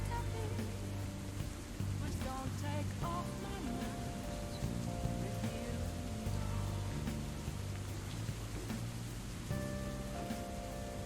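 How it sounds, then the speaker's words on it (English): Rain patters steadily on a surface as a background effect, mixed with tonal music-like sounds and faint noises, with no clear speech. "this clip actually comes with the raining sound"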